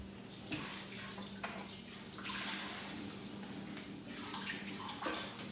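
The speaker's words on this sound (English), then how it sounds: "I'm just rinsing off the lettuce that's left over." Kitchen tap water rinsing leftover lettuce, a steady, fairly quiet rush of running water with light splashes as the leaves are moved under the stream.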